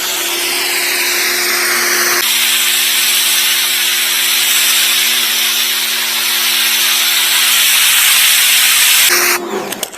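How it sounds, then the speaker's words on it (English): An Mrliance electric pressure washer, rated 3000 psi and 3 gpm, runs a surface sweeper across a driveway. It gives a steady, loud hiss with a constant motor hum for about nine seconds, then cuts off near the end. "Pressure washer sweeper."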